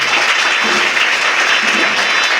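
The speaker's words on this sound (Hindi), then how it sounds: "आप लोग सभी करतल ध्वनि का उद्बोधन करते हैं।" A crowd applauds continuously at a religious gathering for Govardhan Puja in Rameswaram, a dense steady wash of many hands clapping at once, loud and sustained throughout.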